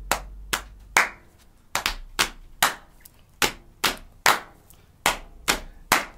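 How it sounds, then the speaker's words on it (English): Hands pat on laps in a steady repeated pattern, about a dozen sharp, close slaps with even spacing and occasional paired beats, in a quiet room with no talk. "You use your hands on your laps"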